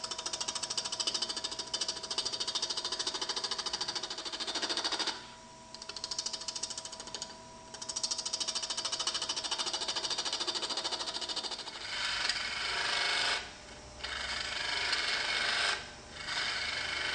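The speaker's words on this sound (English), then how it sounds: "Increase the speed of the lathe as appropriate." Wood lathe fitted with a Robert Sorby eccentric chuck cutting a workpiece: a loud, continuous scraping, chattering cut close by, broken by several brief pauses as the tool lifts off, with a steady motor hum underneath.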